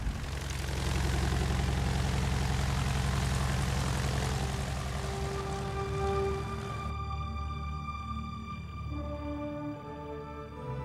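A Boeing-Stearman PT-17 biplane's radial engine drones steadily with a deep, loud pulsing rumble, then eases back toward a lower, quieter idle-like hum near the end.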